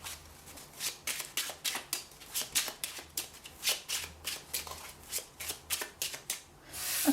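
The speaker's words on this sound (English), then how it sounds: "I'm going to shuffle them a little bit" A deck of playing cards is shuffled by hand, a quick run of crisp riffling bursts repeating in a steady rhythm, close and fairly quiet, with no talking.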